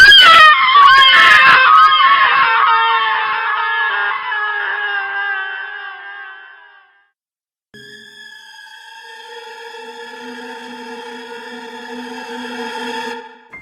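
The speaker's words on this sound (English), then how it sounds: "Alexander's body hit the floor, blood spattered everywhere, and Silvia screamed" A woman's long, wavering scream used as a horror audiobook effect fades out over several seconds. After a brief silence come eerie, sustained electronic tones.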